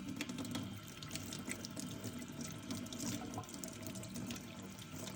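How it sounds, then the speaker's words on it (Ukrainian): Tap water runs steadily into a sink while baby bottles and accessories are washed, a close, continuous splashing stream with small clinks and sloshes and no voices. "Ретельно вимийте усі предмети, які будете стерилізувати."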